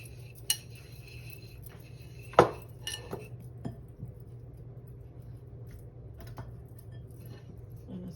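A spoon mixes salt and seasoning in a bowl for braised beef short ribs, giving a few sparse, quiet clinks against the bowl over a steady low hum in an otherwise still kitchen.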